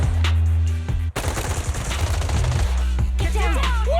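Gunfire in the video game Zenless Zone Zero, a loud rapid fusillade of shots over steady low game music that cuts out briefly before the shooting starts.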